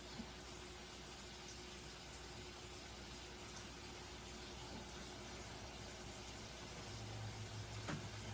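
Shrimp and bok choy boil in a pot, making a faint, steady bubbling hiss that carries on evenly, with a slight rise near the end.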